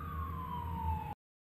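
A Westborough Fire Department fire engine siren wails loudly and close by in one steadily falling tone, then cuts off abruptly after about a second.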